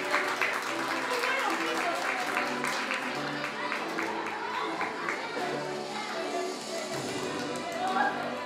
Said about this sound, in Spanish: el aplauso para el compañero